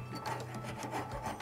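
Wire being cut flush with a hand tool, giving a steady rasping, rubbing scrape with a few stronger strokes, close and fairly quiet, with no talk.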